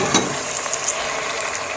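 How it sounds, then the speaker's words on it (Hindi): Tomatoes go into a pan of frying onions for a torai curry, giving a loud, close, steady sizzle with faint crackles and scraping as they hit the hot oil. "अब इसमें टमाटर डाल देते हैं।"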